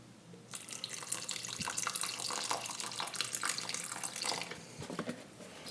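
Vegetable broth poured into a pot of vegetarian chili, a steady close splashing pour lasting a few seconds before tapering off, with no talking.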